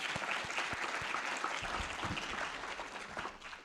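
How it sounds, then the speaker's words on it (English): A round of applause from the audience at a college engineering industry partners lunch, steady clapping from many hands filling the room for a few seconds with no talk over it. "simply a round of applause, right?"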